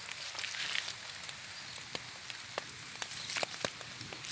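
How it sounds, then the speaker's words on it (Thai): Rain falling on a rice field, a soft continuous patter with scattered sharper drop taps, moderately near and quiet, no voices. "พอดีฝนตกด้วยวันนี้"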